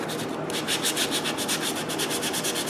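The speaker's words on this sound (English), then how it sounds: "That helps to keep any of the sandpaper scratching to a minimum." Sandpaper rubs back and forth over a surface in a quick, even rhythm, a close, loud, steady scratching with regular strokes and no voices.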